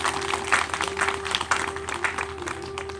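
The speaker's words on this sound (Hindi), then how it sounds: "बार जोरदार तालियां दादा के लिए।" Audience applause at a devotional Shrimad Bhagwat Katha music gathering, a steady patter of many hands clapping through the whole stretch under a sustained tonal hum, moderately loud and without talk.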